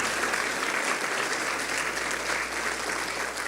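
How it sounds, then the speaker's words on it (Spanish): A church congregation at a Spanish-language service applauds loudly and steadily, a dense continuous wash of many hands clapping together with no pause. "Si va a aplaudir, aplauda fuerte al Señor."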